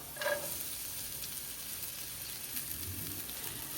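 Soaked sabudana sizzles steadily in a pan of frying soft potatoes with green chilies, a constant crackling hiss with faint stirring scrapes, no voices.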